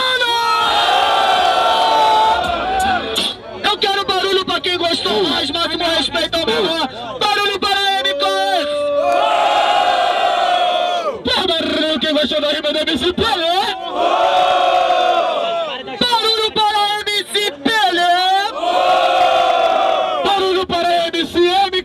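A large crowd at a rap battle in São Gonçalo roars and shouts in loud sustained waves, swelling and dropping briefly between bursts of cheering.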